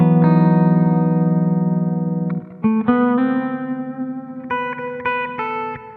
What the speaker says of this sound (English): that's like a hall reverb